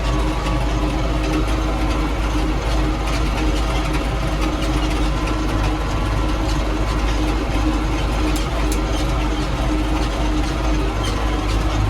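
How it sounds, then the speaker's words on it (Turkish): A 3095D tractor engine runs continuously and loudly nearby, a steady low diesel rumble with a dense, unchanging idle throb and no voices. "Güzel güzel traktörümüzü kullanalım."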